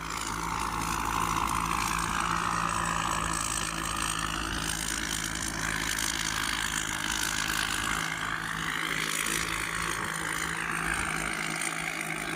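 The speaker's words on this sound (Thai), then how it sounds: "เสียงเครื่องยนต์ หนักมากครับผม" A heavy diesel engine drives a rice baling machine in a windy field, a loud, steady drone that carries on without a break under rumbling wind.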